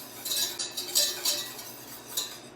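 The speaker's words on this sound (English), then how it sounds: "You just want to get in there and start whisking immediately so it doesn't make clumps." A whisk works hollandaise sauce in a pan for eggs Benedict, giving quick rhythmic bursts of metallic scraping and clinking, close and fairly loud.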